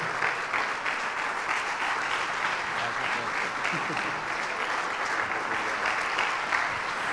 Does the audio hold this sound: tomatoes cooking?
no